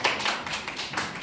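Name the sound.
applause for a quiz contestant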